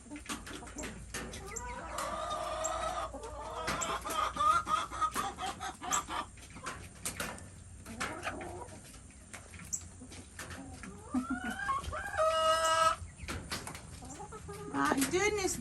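Several homestead chickens cluck and fuss nearby in bursts and short squawks, moderately quiet, with a person speaking softly now and then among them.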